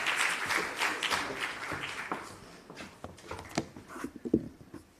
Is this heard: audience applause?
yes